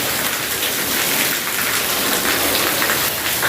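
Heavy monsoon rain pours down steadily, a dense close hiss of drops hammering surfaces with no letup, loud and continuous throughout with no voices.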